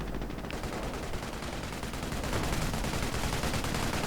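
Battle in Company of Heroes: a Tetrarch tank and infantry firing on grenadiers, dense continuous gunfire and bursts blending into an unbroken roar of combat.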